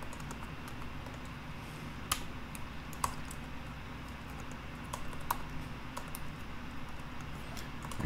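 Keys clatter on a computer keyboard as JavaScript code is typed, giving sparse, uneven clicks and a few sharper taps over a steady low room hum.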